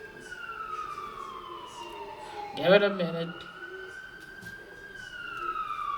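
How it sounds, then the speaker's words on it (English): Emergency vehicle sirens sweep past outside with wailing tones rising and falling, and a vehicle goes by midway. Someone speaks briefly over them. "Come on, pass already, bloody sirens."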